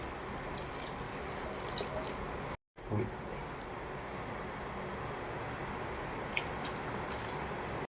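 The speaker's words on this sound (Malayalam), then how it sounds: "നല്ല മഴയുണ്ട് പുറത്ത് കേട്ടോ" Heavy rain pours outside, heard from indoors during cooking, as a steady, dense broadband hiss with scattered drips that runs throughout with only a brief dropout, and no talk over it.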